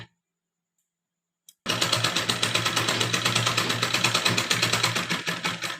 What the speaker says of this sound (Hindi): यहाँ तक और पैक सिलाई लगा लेनी है।